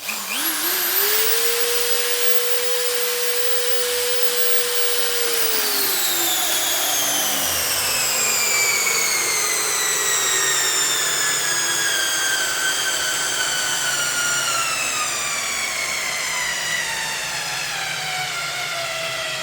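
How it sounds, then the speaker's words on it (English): Parkside PNS 300 B3 two-speed cordless drill screwdriver drives a long 22 cm screw, its motor whining up steadily then slowing and labouring under load, close and loud with no talk. "Now let's try and with this long screw, 22 centimeter."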